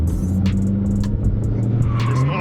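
A Dodge R/T on 315 tires, fitted with widebody Hellcat wheels, brake-boosts and launches hard, its V8 roaring steadily while loud tire squeal and skidding screech over the engine, close and intense throughout.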